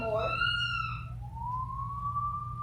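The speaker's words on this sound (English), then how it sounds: "I think I hear the sirens," A police siren wails at a distance, its tone sliding down and then rising again over a low steady rumble.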